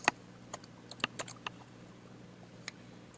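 Key presses on a computer keyboard entering a course ID during online class registration, a handful of sharp, quiet clicks scattered unevenly across the stretch with gaps of quiet between them.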